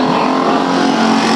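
Race cars roar around Bakersfield Speedway in a heat race, a loud, continuous engine drone with a steady buzzing tone and no break.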